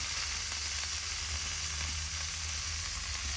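Semolina-coated boneless Boothai fish fries in a pan, a steady, even hiss of sizzling oil heard close up with soft bubbling texture, no speech.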